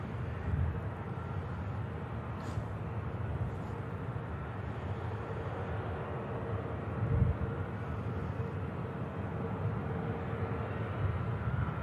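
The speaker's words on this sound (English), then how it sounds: "Just catch this final EasyJet." An EasyJet airliner on final approach makes a continuous broad jet roar, steady and moderately distant, with no talk over it.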